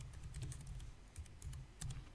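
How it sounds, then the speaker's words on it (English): Typing on a computer keyboard: quick bursts of close, crisp key clicks with brief pauses between runs, steady and fairly quiet, no voices. "I'm going to hit Enter, and I'll type in the Andersons,"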